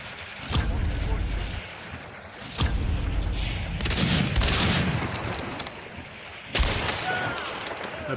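Gunfire from a flechette weapon in a video game, several sharp separate shots with booming low impacts spread across the stretch, mixed with game ambience.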